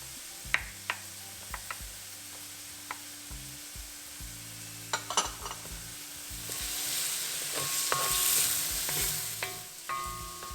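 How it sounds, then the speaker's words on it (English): Onions and ginger garlic paste fry in a pan with a soft continuous sizzle, broken by sharp scraping and clicking strokes as a utensil stirs the mix, close and fairly quiet, with a low hum underneath. "We'll cook the onions for a couple minutes till they soften up. Now we'll add the ginger garlic paste."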